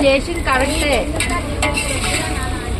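Chicken sizzles steadily in a pan at a Telugu vadibiyyam function, with a second pan of green chillies frying alongside; a continuous, fairly loud frying hiss with stirring, and brief talk in the background near the start.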